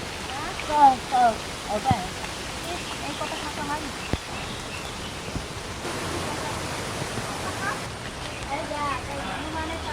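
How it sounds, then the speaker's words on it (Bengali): A dense steady hiss of heavy rain in a storm fills the whole stretch, with a few brief voices heard faintly over it. "এ তো বিশাল জোরে বৃষ্টি নেমে আসলো গো"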